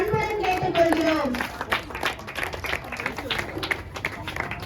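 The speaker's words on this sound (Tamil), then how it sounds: "வெற்றி பெற்ற அனைவருக்கும் கைதட்டு கொடுத்து மிகுந்த உற்சாகப்படுத்துமாறு கேட்டுக்கொள்கிறோம்" Audience clapping for prize winners at a Reliance Smart Super Store Pongal competition, a scattered burst of claps that tapers off, mixed with crowd chatter and children's voices nearby.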